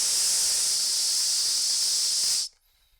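A voice imitates a continuous hiss, a steady, loud, close breathy sound held for about two and a half seconds before stopping abruptly into near silence.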